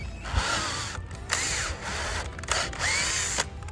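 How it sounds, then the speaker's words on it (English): A power drill whines in three bursts as a drill-tap bit bores and threads into steel, with short pauses between runs; the whirring is close and steady. "They drill and tap at the same time."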